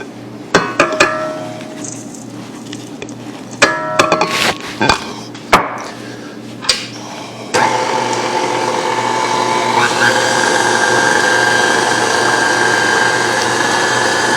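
A mixer blends dry ingredients into keto dark chocolate cookie dough, starting with a few short knocks and bursts, then running as a steady, loud whir through the second half.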